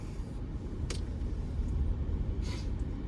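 A 2024 Hyundai Ioniq 5 Prestige electric car drives on a road in Singapore, giving a steady low road and tyre rumble from inside the cabin with a couple of brief high clicks.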